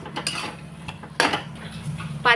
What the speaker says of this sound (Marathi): त्यांना मी 5 मिनिटं परतून घेते फुल गॅसवरच